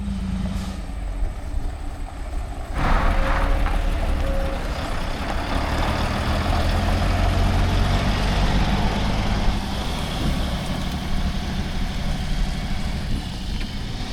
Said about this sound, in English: For equipment, we're going to be running my brother's 9560 combine.